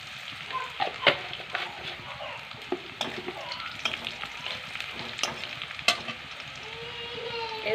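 Browned onions frying in a pan with a bay leaf and a pinch of sugar give a continuous hissing sizzle, punctuated by frequent sharp spatula knocks and scrapes from stirring.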